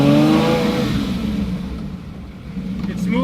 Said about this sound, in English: I give it a little bit of acceleration here.